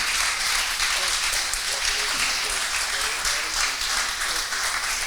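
Audience at an award ceremony for the Pietro Torta 2019 prize breaking into loud, sustained applause, a dense wash of many clapping hands filling the room from start to finish.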